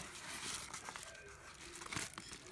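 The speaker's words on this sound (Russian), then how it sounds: "Вот в таком пакетике. Еще не открытый. Сейчас откроем и посмотрим" A plastic packet holding a pair of small 5 cm, 10 W replacement speakers for a JBL Charge 3 is torn open, giving soft crinkling and rustling with a few sharper rips, close and fairly quiet.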